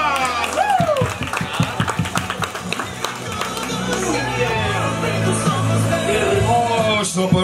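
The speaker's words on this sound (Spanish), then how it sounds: "¡Los aplausos!" Applause mixed with cheering and whoops from a lively crowd at a baby shower, loud and continuous, with excited voices and chatter running throughout.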